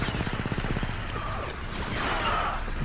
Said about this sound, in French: On va prendre la mitrailleuse clone.